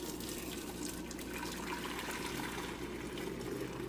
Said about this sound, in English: I'm gonna just pour the noodle water through here to strain it out